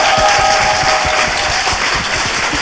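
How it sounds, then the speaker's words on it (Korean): Studio audience applauding at a Korean talk show, steady close clapping throughout the short stretch with no pauses. "박수 한번 부탁드립니다"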